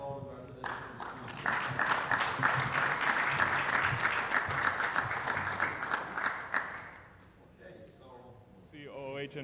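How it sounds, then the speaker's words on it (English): An audience at an ophthalmology clinical assembly gives a warm round of applause for residents and students, dense clapping swelling for several seconds, then fading out as a speaker resumes talking. "Round of applause for all the residents and"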